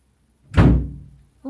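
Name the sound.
door slammed shut by the wind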